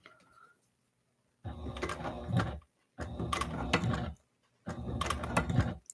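A sewing machine stitches around a corner in three loud mechanical bursts, each roughly a second long, with short quiet pauses between as the needle is pivoted.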